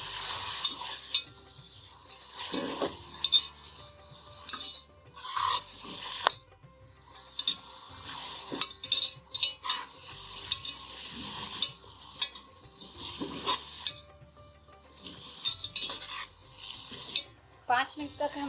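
Peas and potatoes fry in a pan for matar pulao, with a soft steady sizzle broken by repeated scraping and clattering stirs, close and fairly quiet.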